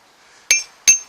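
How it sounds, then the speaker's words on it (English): Two sharp, ringing hammer blows land about 0.4 seconds apart on a hammer drift made from a car axle, struck at a forge while the steel is still warm; each strike is loud and close. "I can probably still do a couple of hammer blows today"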